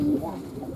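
Pigeons coo at a pigeon loft, a low soft coo that is close and brief.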